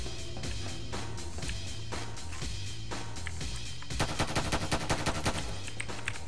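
Rapid gunfire in the video game Hunt Down The Freeman, dense bursts of shots throughout, growing into a fast, evenly spaced string of loud shots in the second half.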